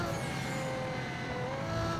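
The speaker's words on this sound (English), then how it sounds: "I like the off throttle sound." Car engine in the PSP racing game Need for Speed Carbon: Own the City, droning steadily with layered harmonic tones through two seconds, consistent with off-throttle engine sound, loud and continuous with no talk.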